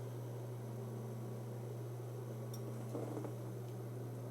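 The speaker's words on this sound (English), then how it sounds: "I can hear some humming coming." A Palomar Skipper 300 amplifier with a cooling fan gives off a steady low electrical hum with a fan whir, constant and moderately loud, with a couple of faint ticks near the middle.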